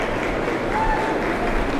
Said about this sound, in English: Let's give these commercial female exhibitors a nice round of applause.